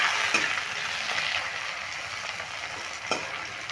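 Sliced tomatoes sizzle in hot oil with fried onions while being stirred, a steady soft crackle with a few scraping spoon strokes, close and fairly quiet.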